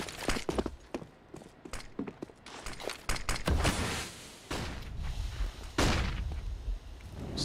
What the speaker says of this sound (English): Stico hears the footstep.